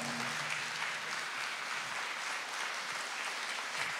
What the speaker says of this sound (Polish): Orkiestra smyczkowa, sekcja dęta, sekcja rytmiczna. Wielkie brawa.